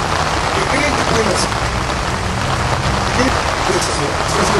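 Steady rain drums on a tent roof at a protest camp on Eje Central and Xola in Mexico City, a dense continuous patter that stays loud and even throughout.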